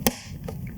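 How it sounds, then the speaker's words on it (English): A pop rivet sets with one sharp, loud pop on a custom bash plate for a Honda Transalp motorcycle, then a softer click follows half a second later. "Rivet, stick it in there. Should come a pop now."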